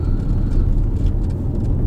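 A car driving toward a campsite, its steady low engine and road rumble loud and close inside the cabin, with no talking.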